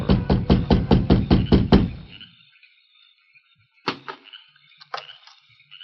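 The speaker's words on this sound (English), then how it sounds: "he reached the small house and rapped on the door" Seven or eight firm knocks on the door of a small house in a quick even run, then a pause and a few scattered thuds and creaks.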